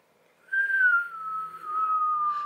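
A ghostly whistling sound effect, one steady wavering tone that slides slightly downward and holds for about two seconds, clear and alone with no talk.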